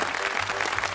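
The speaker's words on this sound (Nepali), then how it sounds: "कविताको लागि एकचोटि जोरदार ताली" Studio audience on a television dance show bursts into steady, dense clapping that fills the whole second, loud and continuous with no voices on top.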